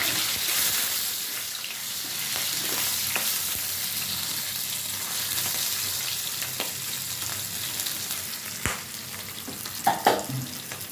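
Garlic frying in rendered pork fat, a continuous bright sizzle in the pan with occasional stirring clinks and a few sharper knocks toward the end.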